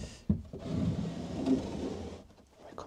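A wooden drawer slides and bumps as it is fitted into a storage box built for a converted 20-year-old Suzuki Jimny micro camper, with scraping runs and knocks close by.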